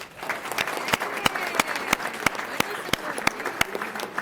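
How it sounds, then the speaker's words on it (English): Crowd applause for retirees at a Sacramento Regional Transit District meeting, steady clapping with a few sharp, distinct claps standing out near the microphone. "If you could all give them a round of applause."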